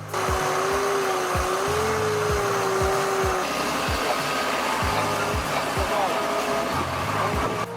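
A John Deere tractor stuck in mud roars at high, steady load, a loud, dense mechanical whine with rhythmic low thumps from the straining drivetrain, and a voice talking over it.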